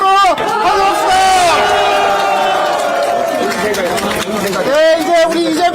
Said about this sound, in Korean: 뜨거운 박수와 함성으로 환영합시다